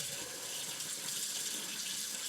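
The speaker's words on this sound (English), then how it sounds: "And then you're going to turn on the hot water." Hot water runs from a kitchen sink tap, a steady close hiss and splash that stays even and unbroken throughout, with no talking.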